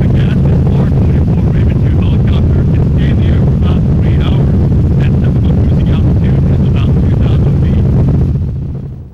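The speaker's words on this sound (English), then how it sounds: "he pilots his four-seater helicopter, getting a bird's-eye view of the San Fernando Valley." A four-seater helicopter flies over the San Fernando Valley, its loud, steady rotor and engine drone filling the whole stretch with a dense low rumble and some wind buffeting before it fades at the end.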